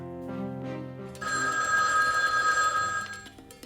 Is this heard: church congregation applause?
no